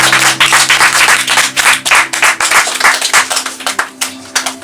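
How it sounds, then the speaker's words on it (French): Rapid, dense clapping from an audience in a hall, loud and close with uneven bursts and a steady hum underneath, a few hands standing out near the end. "vous recevez un tonnerre d'applaudissements"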